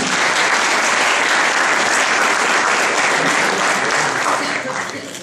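Dense, loud applause from an audience at an award ceremony for girls' art and competition winners, a steady wash of many hands clapping that fades slightly toward the end.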